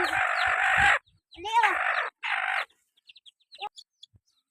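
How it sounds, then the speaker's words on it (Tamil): Chicks are placed into a cage with hens, bringing a few loud, close squawks in quick succession, followed by scattered faint, high peeping. "இப்போ குஞ்சு எடுத்து உள்ளே விடுறாங்க குஞ்சுகளை கூண்டில் விட்டுட்டு இருக்காங்க"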